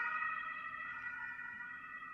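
An ambulance siren wails steadily throughout, loud and continuous, its tones holding without a clear drop in pitch across the short stretch.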